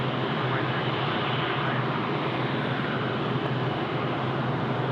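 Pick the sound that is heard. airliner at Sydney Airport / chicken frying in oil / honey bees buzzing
airliner at Sydney Airport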